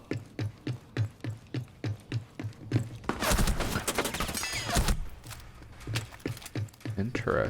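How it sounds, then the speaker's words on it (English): Rainbow Six Siege gameplay carries a dense burst of rapid gunfire lasting about two seconds, framed by steady rhythmic footstep thuds before and after, loud and close. "Oh, and now they're shooting."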